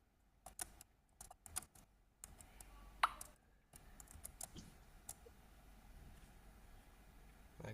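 Keyboard keys are pressed to play a shooting game, with the space bar firing and the arrow keys moving: irregular bursts of quiet taps and clacks, close but faint, with no talking.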